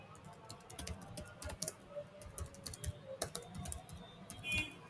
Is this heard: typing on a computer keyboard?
yes